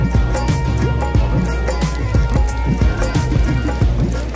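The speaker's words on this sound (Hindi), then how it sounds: "रेन हो रही है." Steady rain falls during a visit to the Golden Temple, a dense, constant patter with scattered drip-like taps close by, heard alone without talk.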